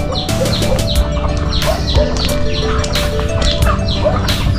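Ducks and geese on a farm, kept beside a bathing pool, call over and over in a dense, loud, steady chorus of honks and squawks with no talking.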